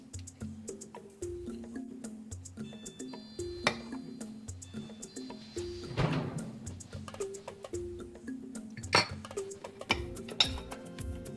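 A spoon clinks and scrapes repeatedly against a mixing bowl, stirring in chips, in a steady rhythm, close and fairly quiet.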